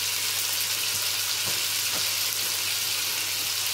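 Homemade meatballs sizzle while browning in a frying pan, a steady hiss of hot fat with a couple of soft taps as they're turned, close by and with no voices.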